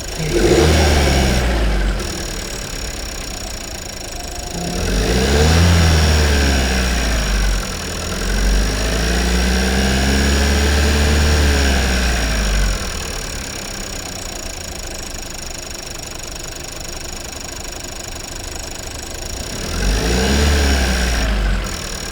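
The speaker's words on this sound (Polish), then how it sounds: "Ale to cykanie jest charakterystyczne, to słychać." A 1.5 TSI turbo petrol engine runs close up with a light ticking, its revs rising and falling in several slow sweeps over a steady idle.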